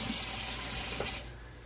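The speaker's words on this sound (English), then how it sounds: "Let me just rinse it out" Water running from a kitchen tap while a deep Pyrex glass baking dish is rinsed in the sink, a steady splashing rush that eases slightly near the end; no voices.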